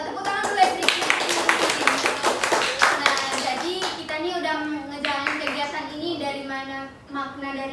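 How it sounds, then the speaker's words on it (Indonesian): A small group claps together in a counseling session, with a burst of quick, uneven applause that tapers off over several seconds, mixed with overlapping voices and chatter. "Jadi tepuk tangan dulu ya sedikit"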